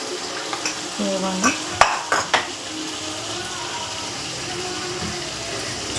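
Lentil dal being tempered in a pan, with a soft continuous sizzle and a few sharp clinks of utensils against the pan near the middle; a brief voice is heard.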